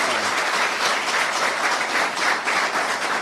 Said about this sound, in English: give a big round of applause for Burkina Faso